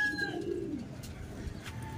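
A racing pigeon arriving at its loft gives a soft, low cooing call near the start, faint against a steady outdoor background with a few distant bird chirps.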